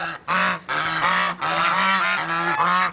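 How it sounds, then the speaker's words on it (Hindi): Several domestic ducks or geese honk loudly and continuously while being fed grain in a village yard, a dense overlapping chorus of harsh calls close by with no talk. "डक्स को डालते हैं।"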